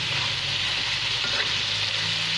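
Food frying in a pan with a little soy sauce sizzles loudly and steadily while being stirred, a constant close hiss with faint scraping underneath and no talking.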